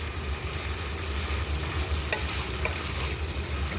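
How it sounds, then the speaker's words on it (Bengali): Quail meat sautéing and being stirred in a pan: a steady, close sizzle with a few faint scrapes and clicks from the spoon, no voices. "এখন আমি আরও একটু কষায় নেব যেন সিদ্ধ হয় ভালো করে।"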